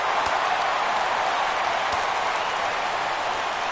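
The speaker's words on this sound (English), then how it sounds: "Crowd gets up for the 3-2." Video game baseball crowd on a 3-2 count, rising in a steady, dense roar that holds throughout with no clear breaks.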